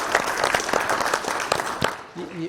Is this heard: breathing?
no